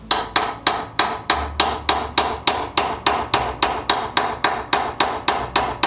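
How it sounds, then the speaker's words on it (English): Hammer strikes driving a steel chisel through steel by hand, about three blows per second in a steady, even rhythm, each a sharp, close metallic crack. "I put the chisel, point it down onto the material, and then I raise up the back and allow it to drive into the material as I'm cutting"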